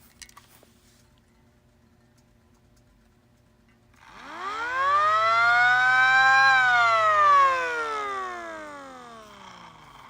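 After a few quiet seconds, a small electric motor-driven siren spins up into a loud rising whine, holds at a high pitch, then slowly winds down.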